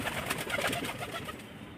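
Pigeons coo in a loft while being fed, a low rolling murmur of several birds close by, continuous throughout without talk.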